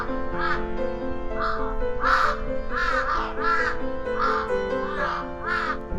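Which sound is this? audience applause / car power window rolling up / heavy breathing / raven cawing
raven cawing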